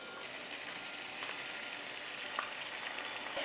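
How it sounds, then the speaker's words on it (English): Steady, loud sizzling of Korean dumplings pan-frying as water is poured into hot oil, a continuous crackling hiss with scattered pops and no voices. "This sound is the sound of the oil boiling against water"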